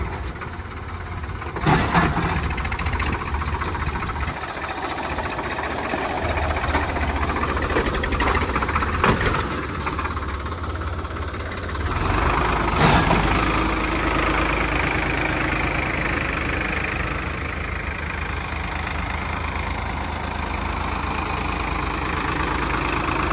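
A 50 HP Solis tractor engine runs at idle with a steady, heavy low rumble, broken by a few brief knocks and small revs, then settling back to a constant hum.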